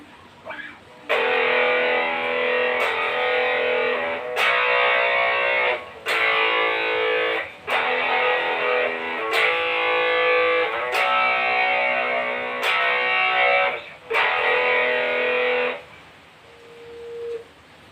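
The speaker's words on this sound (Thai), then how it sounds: "เรียกว่าเสียงดิสเทชันนะครับ" Heavily distorted electric guitar chords through a Joyo JA-01 plug-in mini amp, played in several loud, buzzing bursts separated by brief gaps.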